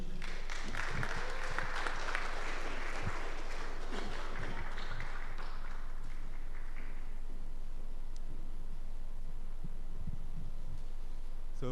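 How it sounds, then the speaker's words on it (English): Brief, fairly faint applause from an audience at a village harvest event as a performer comes up to the stage, fading within a few seconds into low hum and scattered muffled thumps and room noise. "So everyone, please give a round of applause to Michael as he comes up to the stage."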